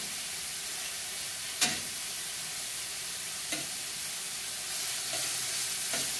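Chopped, seasoned chicken breast sizzles steadily on a Gabbys Grills griddle, a broad close hiss with a few sharp spatula scrapes or taps along the way and no talking.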